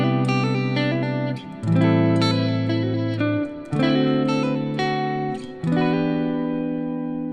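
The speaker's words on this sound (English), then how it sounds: "so we've got a nice sounding R&B riff there" Improvised R&B neo soul guitar riff with hammer-ons, warm chord shapes ringing in phrases separated by brief breaks, loud and close with no talking.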